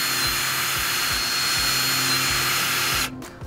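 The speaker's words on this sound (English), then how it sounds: "So we finished up drilling up the sides." A power drill driving screws into the side frame of an outdoor movie screen, several short pulses of the motor in steady rhythm, loud and close, before it cuts off near the end.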